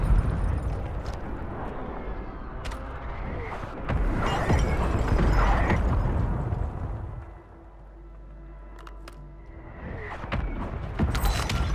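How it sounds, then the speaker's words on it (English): Mortar strike explosions in the video game Call of Duty roll out as heavy, rumbling blasts that swell through the middle of the clip. Scattered mechanical clatter and quieter ambient noise surround them. "That is a mortar strike right there."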